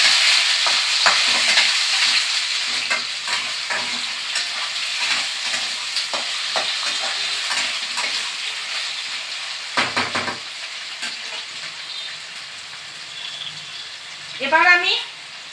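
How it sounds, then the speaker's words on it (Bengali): Potatoes fry lightly with paneer and bay leaves in a pan, a sizzling hiss fading gradually beneath repeated spatula scrapes and clinks, with a brief voice near the end. "এবার আমি আলুগুলো এর সাথে দিয়ে দেব এবার এটাকে একটু হালকা ভেজে নেবো"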